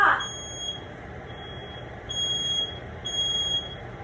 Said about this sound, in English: As if on cue, smoke alarm